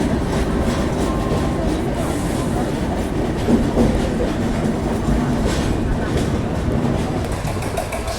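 Train running steadily as it switches onto another line heading toward Agra Fort in India, with a continuous loud rumble and rhythmic clickety-clack of wheels over rail joints throughout.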